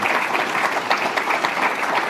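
An audience applauds panelists at the close of a panel discussion on guaranteed income programs for new mothers, with steady, dense clapping from a sizeable crowd that carries on without a break.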